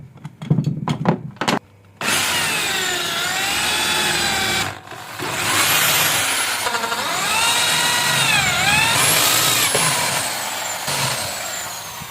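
A power tool whines steadily as bolts are tightened on both sides of a homemade wood lathe frame, its pitch rising and dipping with the load, after a few sharp knocks at the start.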